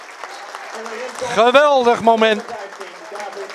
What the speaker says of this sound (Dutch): Hij krijgt een ovationeel applaus.